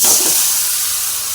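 Tomatoes drop into a hot pan while cooking a bitter gourd kuzhambu, setting off a loud, close sizzling hiss that holds steady through the short moment with no voices.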